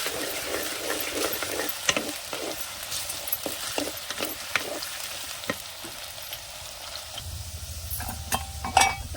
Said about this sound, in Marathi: सगळ्यात पहिल्यांदा बटाटा घालून बटाट्याचा ना आपल्याला हलकाचा रंग चेंज करून घ्यायचा